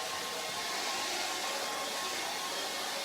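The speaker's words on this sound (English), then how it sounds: "I know I'm talking over my hair dryer" A steady, even hiss and whir of a hair dryer running continuously, close and unchanging for a few seconds with no other sounds.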